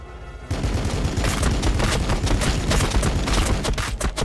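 Dense rapid gunfire rattles nonstop after a brief quiet start, loud and close, like automatic weapons in a Warhammer 40k Battlesector firefight.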